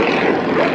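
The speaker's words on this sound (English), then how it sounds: "Led by Marty Camper in the Waco taper wing." Steady droning engine roar of a Waco taper wing biplane flying at an airshow, loud and close, a continuous propeller hum with no talk over it.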